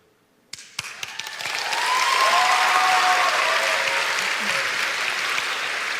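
A convention hall audience at PAX West breaks into applause, starting with a few scattered claps that swell within a second into loud, sustained clapping from a big crowd, with faint voices and whoops mixed in.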